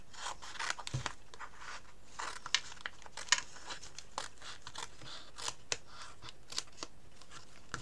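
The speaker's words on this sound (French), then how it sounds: "Je prends un ciseau plus petit parce que celui-là est un peu trop grand" Small scissors snip through packaging in a quick series of crisp cuts and rustles, close and fairly loud with brief pauses between, no one speaking.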